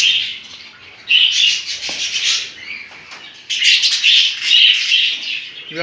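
Pet budgerigars bred at home in an aviary, the parent pair feeding their growing chicks, give steady high chattering and chirping with two louder bursts of busy twittering and a brief flutter near the end, close by and without talk.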